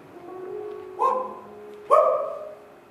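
A dog gives two short, moderately loud barks about a second apart, with quiet room tone between them.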